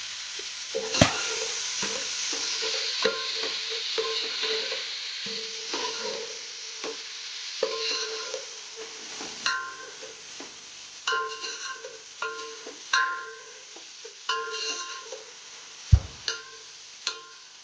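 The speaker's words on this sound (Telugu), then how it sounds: "ఇప్పుడు ఇందులో నేను కట్ చేసుకొని పెట్టుకున్న టమాటోస్ని యాడ్ చేస్తున్నానండి. మళ్ళీ ఒకసారి మిక్స్ చేద్దాం." Chopped tomatoes are stirred and fried in a pan for a Hyderabadi dalcha, giving a soft continuous sizzle broken by sharp scraping and clinking strokes of a spoon against the pan.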